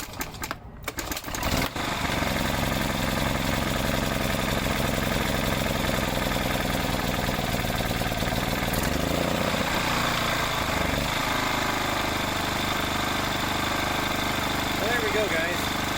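A Ryobi RYi2200 generator engine catches after carb cleaner and settles into a steady close running drone, with a brief clatter at the start and voices talking over it.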